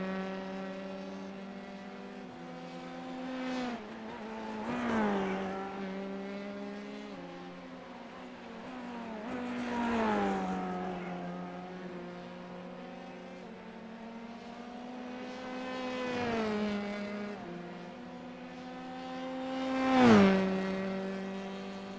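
Formula 3 open-wheel race cars in iRacing at Monza, engines droning with repeated rising and falling pitch sweeps as cars pass, several loud close swells over a steady whine, no talk.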